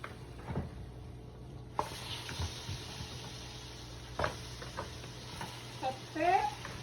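Oxtail dropped into a hot pot for curry, with a steady sizzle rising in the background, scattered clinks and scrapes of utensils, and brief faint voices nearby, fairly quiet overall.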